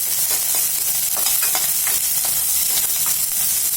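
Onions fry in a pan with a dense, steady sizzle throughout, close and loud, with faint repeated crackles and stirring taps running underneath.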